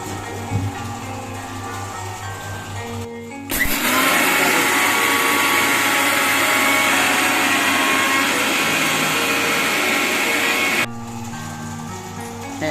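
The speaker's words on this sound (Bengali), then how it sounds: "ব্ল্যান্ডার থেকে এখন আমরা এগুলো মিশিয়ে নিচ্ছি" A blender grinds mustard seeds and spices for wood apple pickle, a loud steady whirring roar lasting about seven seconds between quieter stretches before and after.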